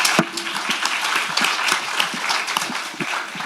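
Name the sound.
applause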